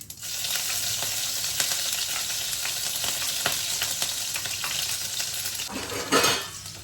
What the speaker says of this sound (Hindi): अब इसमें मैं डाल दूंगी ये कटी हुई हरी मिर्च